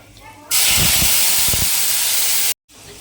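Spices, two dried chillies and a torn bay leaf hit hot rapeseed oil with a sudden loud, steady sizzle that runs for about two seconds under faint popping, then breaks off abruptly.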